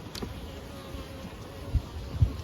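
Nurse bees buzzing steadily around hive frames during work on a small swarm, a close, continuous droning hum with a few soft knocks near the end.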